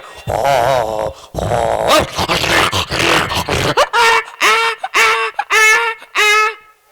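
A person imitates dogs fighting, with a run of snarling growls followed by sharp repeated yelping barks.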